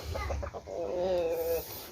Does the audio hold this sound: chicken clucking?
yes